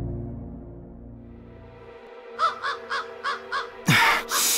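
A crow caws six times in a steady series, fairly close, followed by a loud burst of noise, with a low hum fading beforehand.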